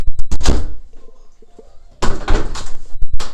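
A bedroom door bangs and thuds loudly with rattling knocks, a quieter gap, then another burst of heavy thumps nearby.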